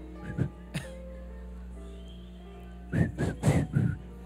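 A person tries to whistle, producing a few breathy, wavering whistle notes near the start and a cluster of short, airy attempts toward the end, with quiet pauses between.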